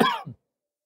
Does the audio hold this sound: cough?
yes